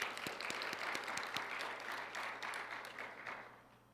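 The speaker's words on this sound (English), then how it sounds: "So give them a round of applause." Applause from an audience at a university teaching-excellence program event, a broad steady wash of clapping that holds for several seconds and then fades out toward the end.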